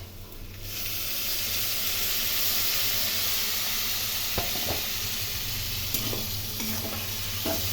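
Tomato, ginger and green chili paste frying in hot oil with potatoes and pointed gourd, a sudden burst of dense hissing sizzle that holds steady, with a few soft stirring knocks later on.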